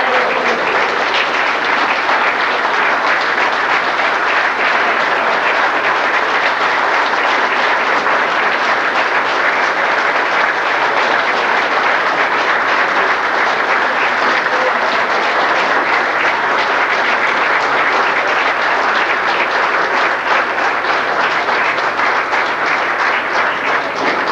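A large audience at a tribute night applauds without a break, a dense, steady wash of clapping that holds at full loudness from start to finish, with no voices.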